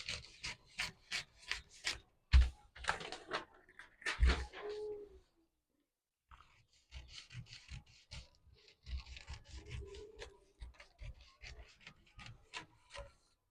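Scissors cut out a paper corset pattern, making a steady series of crisp close snips and rustles that pause briefly midway before resuming.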